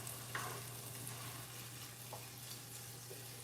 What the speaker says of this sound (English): I'll let those saute a little bit